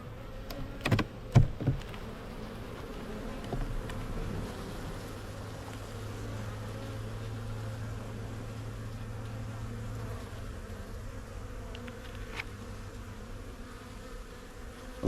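Honey bees crowd both sides of a hive frame pulled from an active hive, a close, steady droning hum that swells slightly midway, with a few brief knocks near the start.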